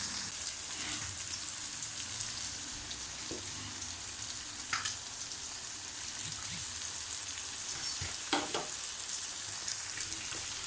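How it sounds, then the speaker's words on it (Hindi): Fish and soft tomatoes with spices fry in a pan for a fish pulao, giving a continuous close sizzle with occasional stirring scrapes and small pops. "यहाँ पे मेरी फ़िश भी अच्छी से फ्राई हो रही है"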